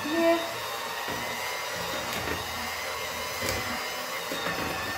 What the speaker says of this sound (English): We are going to mix this with an electric mixer for 3 minutes.